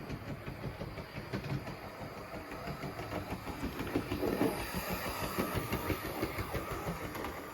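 Andrew Barclay model locomotive running after a motor mount repair, a faint steady mechanical hum with rhythmic clicking from the drive, heard alone at a low level.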